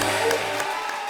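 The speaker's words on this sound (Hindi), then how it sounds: "सोहेल भाई आगे जोरदार तालियां।" Loud, steady applause from a comedy show studio audience, a dense wash of clapping that holds strong through the short moment and eases slightly toward the end.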